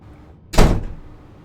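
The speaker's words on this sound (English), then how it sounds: "That's the wind blowing the door shut." A door is blown shut by the wind, one loud, abrupt slam with a short thudding decay, close by and alone against quiet room noise.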